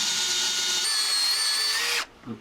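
A power drill cutting a countersink runs steadily at high speed for about two seconds, its whine rising slightly in pitch before it abruptly stops, close and loud with no talk.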